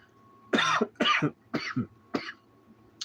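Four close, sharp coughs in a quick series, followed by a tiny throat sound, against a quiet background hum.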